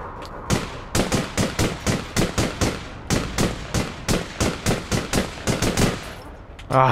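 Light machine gun in APB Reloaded firing in sustained bursts, about two dozen sharp close shots in a rapid regular rhythm with one brief pause, then a final heavier blast.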